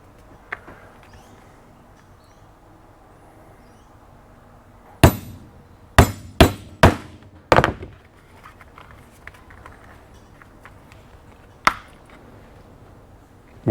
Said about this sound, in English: So we're going to use a hole punch.